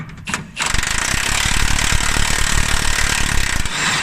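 Metallic ratcheting and clanking of a spanner working a nut loose on a Ford Focus, loud and continuous with a dense mechanical grind after a brief quieter start, no voices.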